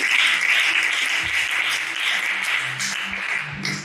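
A church youth seminar crowd breaks into sustained applause and cheering, a dense, even roar of many hands that stays loud across the whole stretch with scattered shouts.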